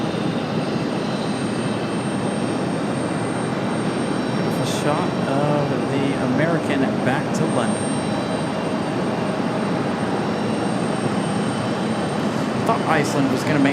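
A Boeing 777 airliner departs from Raleigh-Durham International Airport, a loud sustained engine roar with a broad rushing wash that holds steady throughout.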